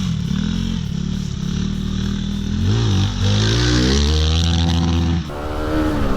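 A 2019 Fantic Enduro 250 single-cylinder dirt bike ridden off-road, its engine droning steadily and loud, rising and falling in pitch as the rider works through gears, with a sharp drop in revs near the end.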